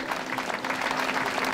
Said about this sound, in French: De vos applaudissements s'il vous plaît.